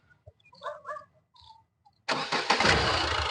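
A 2019 Ford Ecosport Titanium+ fires up on a single crank after a few quiet chirps and short tones, then settles into a loud, steady idle close by.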